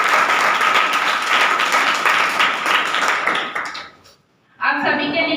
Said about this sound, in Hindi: एक बार जोरदार ताली आप सभी के लिए बजा दीजिए।